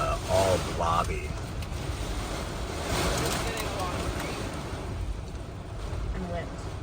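Hurricane Milton's extreme eyewall winds in St. Petersburg, Florida: a steady, heavy roar of wind buffeting the microphone throughout, with a voice speaking briefly near the start.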